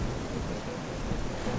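Steady rain pours in Zelda: Twilight Princess, a dense, constant hiss with low rumbling underneath, like a thunderstorm, filling the whole short stretch without any talk.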